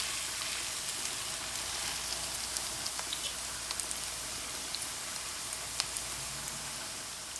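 Celeriac and carrot latkes fry in hot oil with a steady, soft sizzle and scattered small pops and crackles throughout, faint and continuous with no talking.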